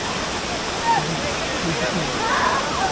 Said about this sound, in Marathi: हा समोर पाहत आहे पन्नोळी धबधबा आहे नावळे ह्या गावातील